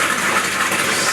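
A small box filter pump on an indoor koi pond sends water gushing steadily straight into the pond, a loud, even rushing wash with no pauses.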